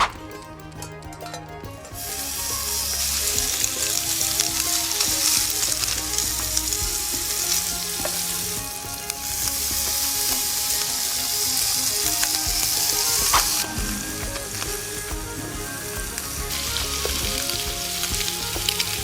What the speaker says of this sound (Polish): Teraz mamy tutaj trochę boczku i dzięki niemu y, sobie go fajnie podsmażymy